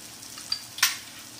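Garam masala being sautéed in a pan for a cucumber curry, a soft steady sizzle broken by one sharp scrape of a spoon, no voices.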